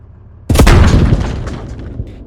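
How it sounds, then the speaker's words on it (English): A mortar round explodes in the video game Squad, with one sudden loud boom that decays into a rumbling tail over a couple of seconds. "See if the explosion of this round is any different from the others."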